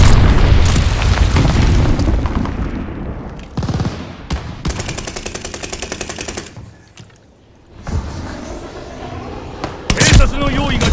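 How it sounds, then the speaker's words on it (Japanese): Explosions and heavy gunfire in a Call of Duty Vanguard team deathmatch, including an enemy glide bomb: loud booms, rapid bursts and sharp impacts come in clusters, with a short quieter gap before another heavy blast near the end. "気をつけろ、敵の滑空爆弾が来るぞ。"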